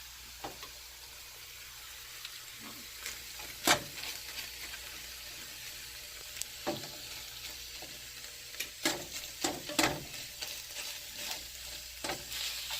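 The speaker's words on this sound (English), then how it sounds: "we're gonna give this a stir" Taco-seasoned filling for stuffed bell peppers stirred in a pan over medium heat: a soft frying hiss broken by repeated scraping, clinking stirs of varying strength, close and without speech.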